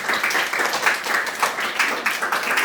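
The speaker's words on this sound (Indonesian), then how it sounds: "beri tepuk tangan untuk kelompok 1" A classroom of students claps for a student group after its presentation, a dense steady patter of many hands at close range with a faint voice or two mixed in.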